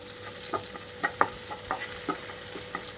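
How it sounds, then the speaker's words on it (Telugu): Onions with ginger garlic paste frying in a pan over a medium flame for a tomato paneer curry, a soft continuous sizzle broken by light scraping taps of stirring, fairly quiet and without talk. "పేస్ట్ వేసాక మీడియం ఫ్లేమ్లోకి టర్న్ చేసి వేయించుకుంటున్నాను"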